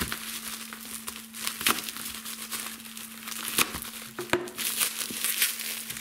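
A bag wrapped in bubble wrap crinkles and rustles as it is handled, with irregular crackling bursts and a few sharper crunches close by, over a faint steady hum.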